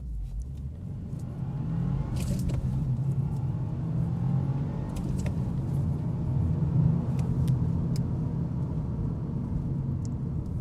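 Subaru WRX tS accelerating hard from a standstill in a 0 to 60 run, a steady loud engine rumble that builds after the first couple of seconds and holds, heard from inside the car with no talk.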